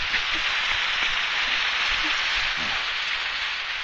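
Steady rain falls throughout, a dense, even hiss with faint scattered patters of drops on surfaces, loud and close with no voices.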